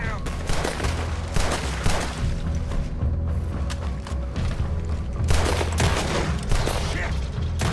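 Sustained gunfire from Red Dead Redemption 2, a dense fusillade of overlapping rifle and pistol shots with booms, continuous and loud throughout, with voices shouting over the shooting.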